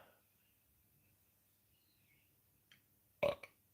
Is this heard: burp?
yes